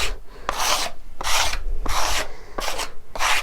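A steel trowel scrapes Blendd cement across tiles in four rhythmic, raspy strokes, close and loud, each sweep separated by a brief pause.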